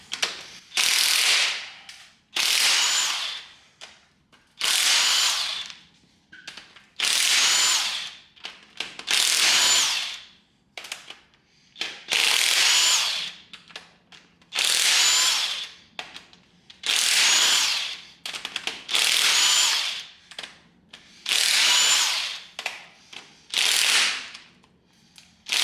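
A hand ratchet loosens the head bolts on an LS2 engine in a series of about ten loud, close clicking bursts, each a second or two long, separated by short pauses.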